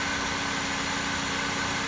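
A Chrysler 2.4 liter four-cylinder in a 2014 Dodge Avenger idles with a steady, even hum and faint vibration, close and continuous with no talk.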